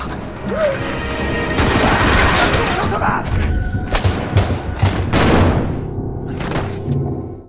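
Rapid bursts of gunfire and sharp mechanical clacks fill a scene from a zombie film, loud and close, with dense volleys fading to scattered shots and a brief voice at the start.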